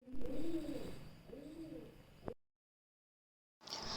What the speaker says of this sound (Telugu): పావురాలు అక్కడ నుంచి పిలుస్తున్నాయి అనమాట, మమ్మల్ని అరుస్తున్నాయి